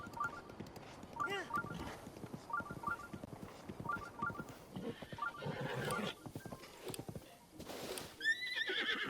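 Horse galloping and neighing in The Legend of Zelda: Breath of the Wild, with steady rhythmic hoofbeats and several whinnies over game music, fairly quiet and continuous.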